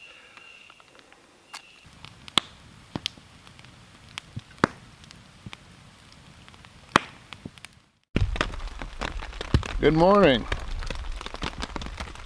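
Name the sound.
rain falling on tent while canoe camping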